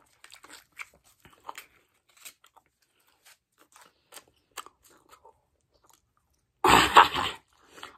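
Many sticks of Hubba Bubba gum are chewed up close, with soft sparse wet chewing clicks and smacks, then a sudden loud burst of crinkling or crunching near the end.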